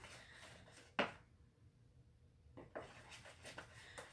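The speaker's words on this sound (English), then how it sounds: "you're gonna stir and you're gonna mix it up" Homemade gluten-free licorice mixture is stirred in a pot, with a soft scrape and a sharp knock of the spoon, then quiet, faint scraping and light taps.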